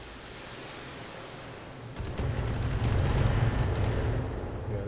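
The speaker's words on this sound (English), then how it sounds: "I'm under heavy fire." Heavy weapons fire in the mech combat game BattleTech, a rumbling roar that surges in after a quieter stretch with a cluster of rapid impacts, sustained and loud.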